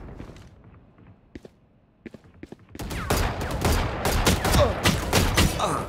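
Rapid gunfire bursts from moving-and-shooting play as Chamber in Valorant, with sparse sharp shots and footsteps at first, then dense, loud, continuous fusillade filling the second half.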